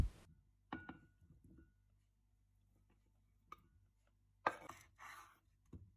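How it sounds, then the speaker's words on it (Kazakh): A knife chops meat on a board in a few scattered, sharp knocks with quiet pauses between, close by and fairly soft. "Етімізді осылай қатты үлкен, қатты кішкентай етпей турап аламыз."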